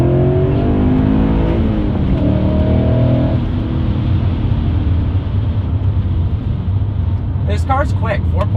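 A BMW E39 M5 with a 4.9-liter naturally aspirated V8 and a muffler delete accelerating in second gear, a loud, raw exhaust roar climbing in pitch, heard from inside the car with faint voices near the end.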